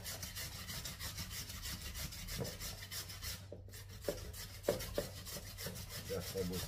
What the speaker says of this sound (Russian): Сейчас натру картошку. На крупной терке буду натирать.